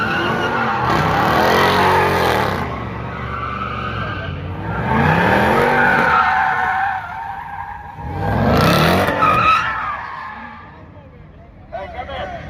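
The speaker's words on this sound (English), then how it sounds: "You gonna let me spin the car, bro?" Tires skid and squeal as a car is spun at a street meet, with loud engine revving in repeated long bursts and people talking and shouting over it.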